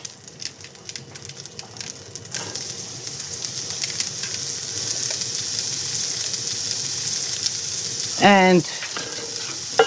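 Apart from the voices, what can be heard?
pancetta, garlic and pestata frying with lamb in a pan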